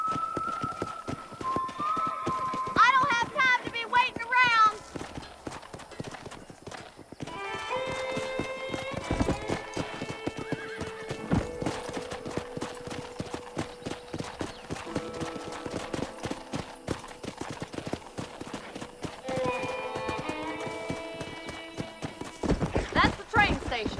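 Horses at a corral in the video game Red Dead Redemption, steady clip-clop hooves with several distinct whinnies, fairly close, while someone speaks briefly over the scene and music plays underneath.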